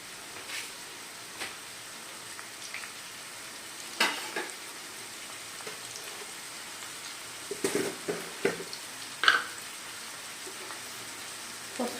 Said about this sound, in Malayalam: പിന്നെ അതെല്ലാം ഒന്നിച്ചിട്ടൊന്ന് വഴറ്റിയെടുക്കാം കേട്ടോ